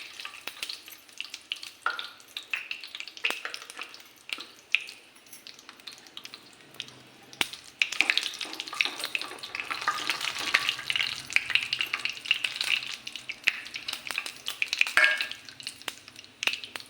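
Asafoetida sizzles and crackles in hot oil in a home kitchen while appe and fresh coconut chutney are being made. Close, continuous frying noise with a spoon stirring now and then, and the sizzle swells louder partway through.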